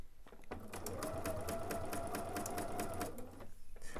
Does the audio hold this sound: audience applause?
no